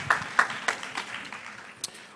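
A few scattered hand claps from a small group, quickly thinning out into quiet room noise.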